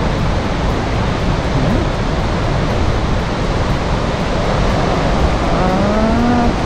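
Rushing water at the Cachamay park waterfall in Ciudad Guayana, Venezuela, a loud, constant roaring wash of falling water that fills the whole scene, with a brief faint voice or tone rising near the end.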